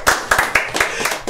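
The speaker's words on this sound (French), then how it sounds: "Est-ce qu'on peut l'applaudir s'il vous plaît?" A burst of audience clapping on a television set, several quick sharp hand claps close by in an uneven rhythm.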